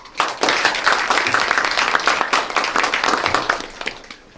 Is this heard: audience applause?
yes